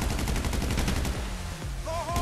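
Rapid automatic gunfire rattles in GTA 5 Online, a fast run of evenly spaced shots that pauses briefly before a few more bursts. Faint whistling game tones appear near the end.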